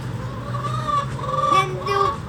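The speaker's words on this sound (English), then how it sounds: "Yeah, chickens!" Several chickens cluck and murmur nearby in short, overlapping calls over a low steady background hum.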